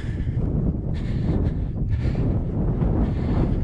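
Strong wind blows across an open fell on Skiddaw, buffeting the microphone with a loud, rough rumble that surges in gusts over a few seconds, with no voices.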